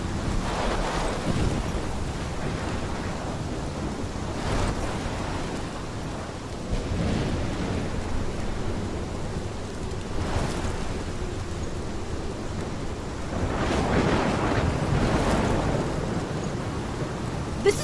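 A storm in the video game Life is Strange: continuous rushing rain and crashing waves with deep rolls of thunder swelling at intervals, loud and enveloping, with no talk.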